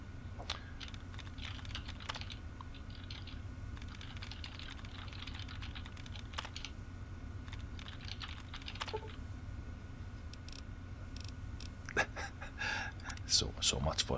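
Rapid keyboard typing while hacking a terminal in the video game Fallout 3, a quick, irregular run of close, soft clicks over a faint steady hum.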